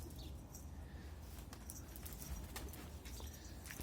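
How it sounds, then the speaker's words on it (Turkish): Elvan pigeons coo softly amid wing flaps and rustling, with a few brief flutters as the birds land and settle nearby. "Şöyle kuşlar indiler."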